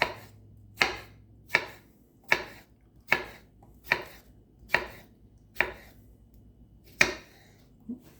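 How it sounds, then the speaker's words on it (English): A knife chopping tomato and cucumber into small pieces on a cutting board for a salad, ten crisp, evenly spaced thuds close up with quiet gaps between strokes. "Now, just turn it and you cut little pieces off."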